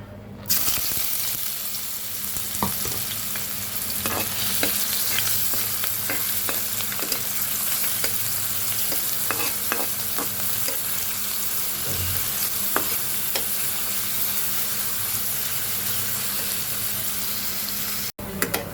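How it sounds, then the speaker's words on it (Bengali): Onions fry in oil in a wok, browning for a potato dish, giving a continuous close sizzle with frequent stirring scrapes and crackles over nearly twenty seconds, no one speaking. "আমি আলুগুলো ভুনা করার জন্য পেঁয়াজটা প্রথমে লাল করে ভেজে নিচ্ছি"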